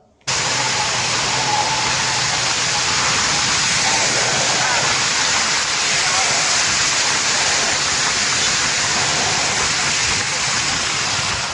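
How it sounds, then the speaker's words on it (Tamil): Floodwater from the Palar river pouring over a submerged low-level causeway bridge after heavy rain, a loud, steady broadband roar and rush that holds constant and close the whole way through. "காஞ்சிபுரம் வாலாஜாபாத்தில் இருந்து அவலூர் செல்லக்கூடிய கீழ்மட்ட பாலம் மேல் தண்ணீர் செல்கிறது"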